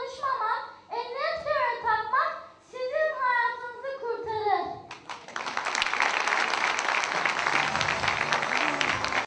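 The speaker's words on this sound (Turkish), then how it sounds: "öğrenciler izleyenlerden bol bol alkış aldılar" Audience applause breaks out at a school play on traffic safety, after children speak on stage; steady, dense clapping fills the last four seconds at moderate loudness.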